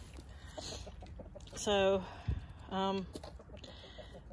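Chickens clucking and squawking nearby, two loud harmonic calls in quick succession with softer clucks around them, while a person says a word quietly.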